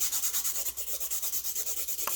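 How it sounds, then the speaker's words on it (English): A gel nail is buffed with quick, even back-and-forth strokes, making a soft, close rubbing rasp in a steady rapid rhythm with nothing else heard. "And don't go too crazy with the buffing either, because you, oh fuck, you could deform the shape."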